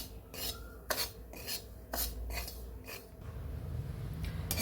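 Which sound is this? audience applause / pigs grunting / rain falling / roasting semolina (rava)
roasting semolina (rava)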